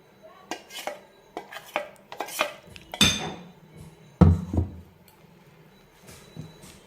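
A spoon stirs eggless chocolate cake batter in a bowl, giving irregular scraping knocks and clinks against the bowl, some sharper and louder, spaced apart with quiet gaps in between.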